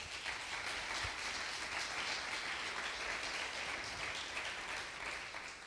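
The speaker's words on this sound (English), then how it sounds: "let's give them a big round of applause" An audience at a startup incubator demo day applauds in a steady, sustained wash of clapping that sounds fairly distant and faint, with no talking over it.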